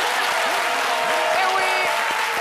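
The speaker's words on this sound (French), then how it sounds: "Ça s'applaudit." A studio audience claps on a live midday TV show, broad, steady applause running throughout while voices talk over it.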